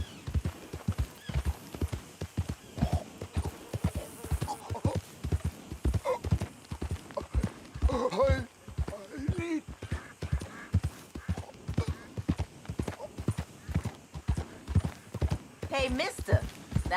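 Horse hooves clip-clop in a quick, steady rhythm on hard ground in the video game Red Dead Redemption 2, with a voice talking over the trotting and a brief whinny.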